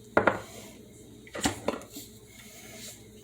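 A spoon scoops diced peppers out of a container for chili, knocking and scraping against the sides in a few sharp clattering bursts separated by short pauses.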